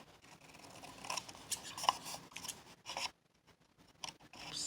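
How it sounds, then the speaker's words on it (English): Scissors snipping paper corners at a 45-degree angle for a handmade box, a series of short close crisp cuts and rustles with brief pauses, no talking. "cut them as we're going to cut them about 1/8 of an inch away from the corner"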